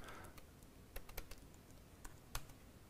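Fingers typing on a computer keyboard while an IP address is entered into a Firefox window, a few sparse, separate key taps, close and fairly quiet, with no voices.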